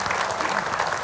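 Brief burst of applause from women in a television studio audience, dense and close clapping that stays loud throughout.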